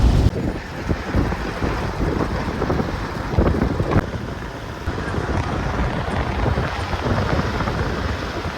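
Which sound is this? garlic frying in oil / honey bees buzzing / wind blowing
wind blowing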